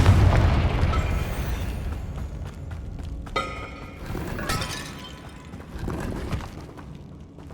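Confringo fire spell exploding in Hogwarts Legacy, a low booming burst with crackling, shattering debris and a second flare of bursts midway, rumbling throughout.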